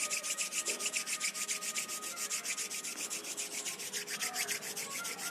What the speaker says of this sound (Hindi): धीरे धीरे दोनों हाथों को रब करेंगे